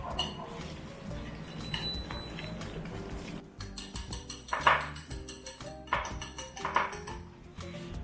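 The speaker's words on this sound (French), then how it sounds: "Et maintenant, on mélange la mayonnaise." A utensil clinks and taps against a bowl while mayonnaise is mixed into a tartare sauce. The metallic pings come in irregular clusters, with louder strikes in the second half, over a low kitchen background.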